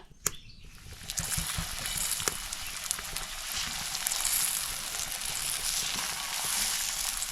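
Suran (elephant yam) slices coated in semolina fry on a shallow tawa over medium gas, giving a steady close sizzle that swells as oil is poured in, with a few soft clicks and no voices.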